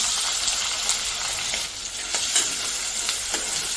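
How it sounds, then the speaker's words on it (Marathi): Onions frying in two spoons of oil in a kadai give a loud, constant sizzle with bursts of crackle and occasional stirring scrapes. "आता आपण यामध्ये कांदा घालून घेऊया"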